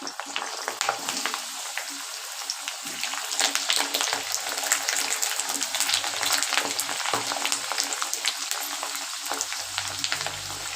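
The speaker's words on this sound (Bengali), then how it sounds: "তেলটা গরম হয়ে গেছে। এইবার পটেটোগুলো ফ্রাই করে নেব লাল লাল করে।" Potatoes frying in hot mustard oil in a karahi for mutton curry, a dense, steady crackling sizzle running loud and close throughout with no talk.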